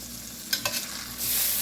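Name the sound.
sausage frying on a griddle, being moved around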